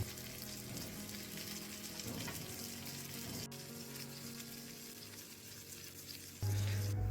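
A whole tilapia fish fries in oil on low-medium heat, giving a steady soft sizzle that continues throughout, with a few light stirring knocks and a louder burst near the end.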